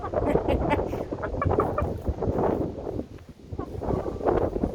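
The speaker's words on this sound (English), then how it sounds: "This is one of our chickens." Chickens cluck in soft, busy bursts outdoors, with faint wind and no clear talking.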